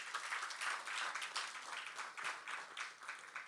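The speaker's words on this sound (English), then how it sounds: "And I think that deserves a round of applause." A conference audience at an audit committees' event claps continuously in a dense, even wash of many hands. The applause holds steady throughout with no talk over it.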